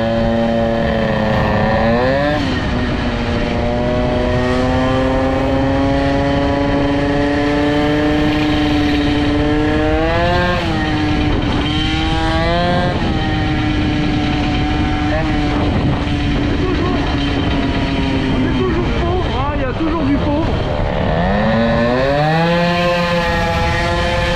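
A Peugeot 103 moped with an air-cooled Airsal 65 hybrid kit and a short belt revs up and down in rising and falling sweeps while its carburettor is tuned, loud and close, with people talking over it.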